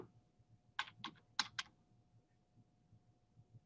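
Quick computer keyboard typing: a short cluster of about five crisp key clicks close by, then quiet with a faint hum and soft background ticks.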